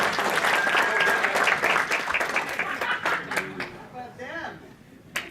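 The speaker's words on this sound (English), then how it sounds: "We need an applause" An audience applauds at a team presentation, dense steady clapping that thins out and fades toward the end, with some voices talking over it.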